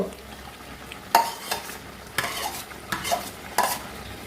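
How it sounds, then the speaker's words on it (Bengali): Potatoes, garlic and onions stir-fried in oil over medium-high gas, with a steady low sizzle broken by about six sharp spatula scrapes and clanks against the pan, close and fairly loud. "সব শুদ্ধ ঢেলে দিলাম এইবার গ্যাসটা মিডিয়াম টু হাইতে রেখে কষাবো যতক্ষণ না পুরো তেলটা ছাড়বে"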